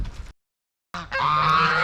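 Farm geese kept with chickens and turkeys honk loudly and close by. A short burst cuts off into silence, then a sustained, harsh chorus of honking follows.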